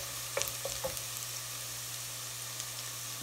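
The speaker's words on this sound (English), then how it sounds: "First, you just need to put our garlic. Alright, just cook it up a little bit." Garlic frying in a pot as the base for goat kaldereta stew, giving a steady, fairly quiet sizzle with a few brief stirring clicks near the start and no talking.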